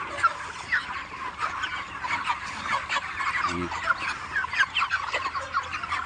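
A flock of about 1,500 chickens on a poultry farm clucks and chatters continuously up close in a busy, overlapping din, and a voice briefly cuts in.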